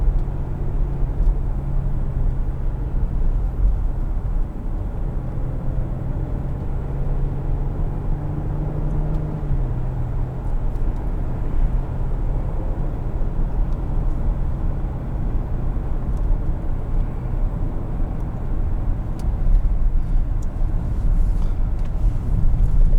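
A 2019 Porsche Cayenne S engine while driving gives a steady, loud low rumble with a brief rising tone in the middle, continuous for the whole stretch with no talk.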